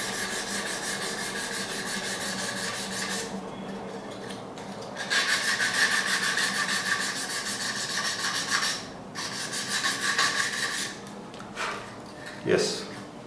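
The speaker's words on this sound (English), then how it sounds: "So just blunt the sharp edge of the corner, both the top and the bottom. So you can just sand it lightly." Light sanding along the sharp top and bottom corner edges of a piece being prepared for covering with colour tissue paper, a steady close rubbing that pauses and resumes in strokes while a person talks throughout.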